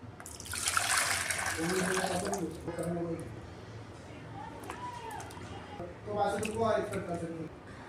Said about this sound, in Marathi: बटाट्यांना सगळ्या स्वच्छ पाण्यामध्ये धुवून घ्या